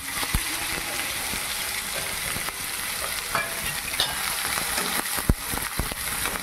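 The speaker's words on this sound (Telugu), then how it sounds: "నూనె వేడైన తర్వాత సన్నగా కట్ చేసుకున్న ఉల్లిగడ్డలు వేసుకోవాలి" Thinly sliced onions fry in hot oil left over from frying eggs, giving a steady close sizzle with a few stirring scrapes and clinks.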